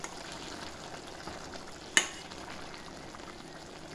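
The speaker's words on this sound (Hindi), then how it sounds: "पानी सूख जाएगा, साफ भुनाएगा।" Spinach frying in a pan at home gives a soft, steady sizzle throughout, with one sharp clack near the middle, faint and close.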